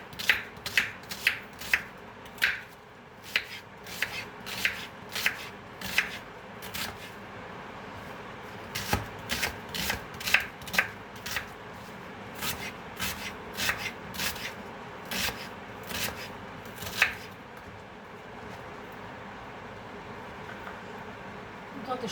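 Two dried onions being chopped into cubes with a knife on a board, a close series of crisp rhythmic cuts arriving in quick bursts with short pauses between them.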